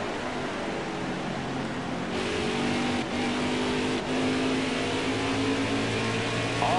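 Race car engine in a NASCAR-style racing video game at New Hampshire, a steady high-pitched droning whine holding throughout with small shifts in pitch and no talk.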